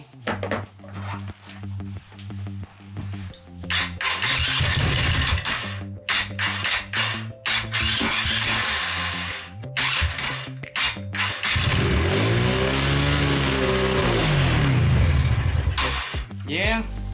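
A small 110cc ATV engine cranks and sputters to life after a shot of starting spray, running in loud uneven bursts that rev up and settle, with brief gaps and talk nearby.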